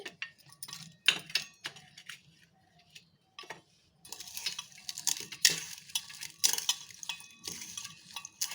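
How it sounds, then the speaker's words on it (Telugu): Onion pieces are mixed by hand with chili powder and salt, giving close squelching, rustling and light clicking sounds in irregular bursts. A brief pause early on is followed by busier, denser mixing. "చేతితోటే కలుపుకోవాలి."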